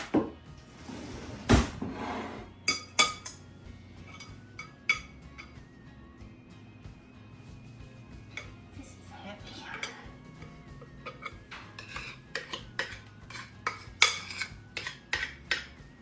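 A spoon scrapes and knocks against a bowl while thick cake dough is mixed for a pineapple cake, giving irregular clinks and scrapes close by and moderately loud, with some pauses between strokes.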